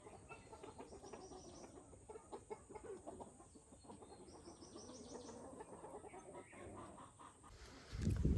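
A farm hen clucks repeatedly at moderate distance, soft broken calls over a quiet outdoor background, ending with a sudden close thump.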